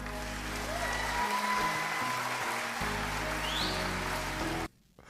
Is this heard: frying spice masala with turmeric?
no